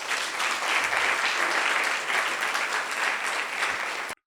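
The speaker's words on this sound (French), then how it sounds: "Si vous êtes d'accord, applaudissez pour vous-même." Steady, dense applause from an audience at a public-speaking contest fills the room at an even level for several seconds before cutting off abruptly.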